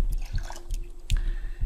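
Water poured over a freshly planted potato in the Raft survival game, heard as a few short wet drips and splashes spaced about half a second apart, close and fairly clear.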